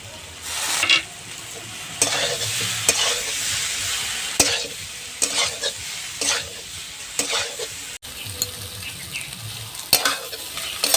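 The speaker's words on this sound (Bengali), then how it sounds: "কচুটাকে একটু কষিয়ে নেবো কাঁচা পাকা চেরা কাঁচা লঙ্কা" Taro and slit green chillies sizzle in a hot pan while a spatula stirs them, giving steady frying noise broken by repeated scraping strokes, close and fairly loud with no talking.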